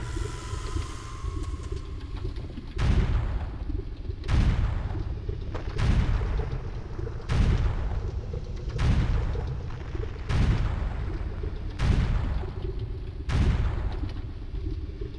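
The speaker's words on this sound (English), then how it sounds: "we're gonna plop a bomb here" Repeated bomb explosions in Zelda Ocarina of Time, about eight deep booming blasts at steady intervals, loud and close, each with a short rumbling tail, after a brief rising tone at the start.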